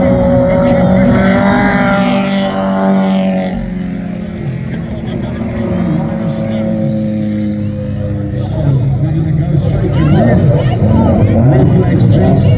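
Race cars run laps on a track at an event, their engines a steady, loud drone and roar under continuous excited commentary from an announcer.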